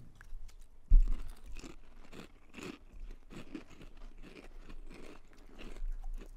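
Several people bite and chew snack crisps from countries such as Australia, Canada and Singapore during a taste test, a dense run of close, loud crunches, with one sharp bite near the start and no talking.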